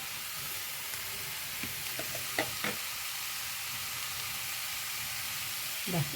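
Chicken perattu frying in a pan as water is poured in and stirred: a quiet, steady sizzle with a few soft spoon clinks and scrapes near the end, no voices.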